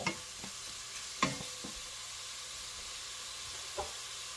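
Meat frying in a pan for a stir fry gives a steady, faint sizzle with a few sharp clinks and stirring scrapes near the start and end.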